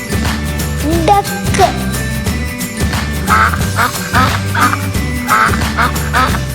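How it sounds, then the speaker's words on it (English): A duck quacks several times in a loud, rhythmic run of nasal calls, set over continuous background music. "duck"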